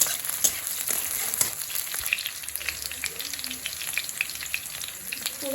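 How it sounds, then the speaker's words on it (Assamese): Onions frying in hot oil for a pork dish, with a steady crackling sizzle and occasional sharper pops, close and continuous, with no talking. "তেলটো গৰম হৈ গৈছে এতিয়া পিঁয়াজ দিম"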